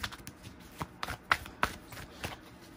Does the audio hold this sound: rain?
no